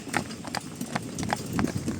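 Hooves of a Breton draft mare clip-clopping in a quick, steady rhythm on a hard surface, close and fairly loud.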